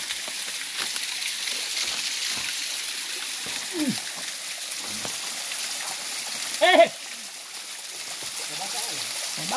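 Water rushing steadily at Botuhelili waterfall in Tapaluluo village, Gorontalo, a broad constant hiss with a brief louder splash; a voice speaks faintly at moments.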